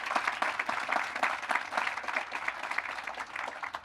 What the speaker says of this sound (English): give that one a round of applause